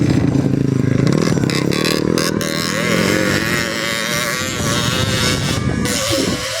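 Motorcycles race in a flat track competition at a barangay celebration, engines buzzing and revving loudly and continuously as bikes roar past, with clattering and crowd noise underneath.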